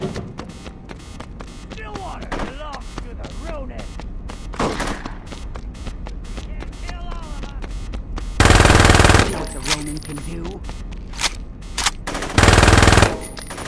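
Automatic gunfire from the video game Saints Row 2, loud rapid bursts that hit hardest in two sharp blasts, mixed with game sound and voices talking.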